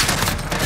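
An FR 5.56 burst rifle fires in Modern Warfare, a dense, loud crackle of rapid gunfire filling the whole short moment.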